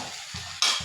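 Sliced bitter gourd frying in oil in a pan, a soft sizzle broken by brief stirring scrapes and a louder burst of hissing near the end, close by and quiet overall, with no talking.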